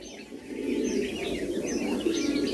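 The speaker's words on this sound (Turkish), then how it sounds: "White Checked Turaco ve tepeli keklik, tepeli orman keklikleri, rol roller." White-cheeked turaco and roul roul partridge calling, with overlapping chirps, soft coos and brief tweets running steadily and fairly close over a dense background murmur.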